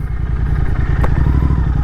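A Royal Enfield GT650 motorcycle engine runs close by with a steady, throbbing idle rumble, loud and continuous outdoors before it is shut off.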